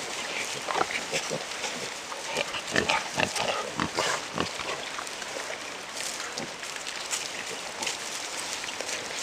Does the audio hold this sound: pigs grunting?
yes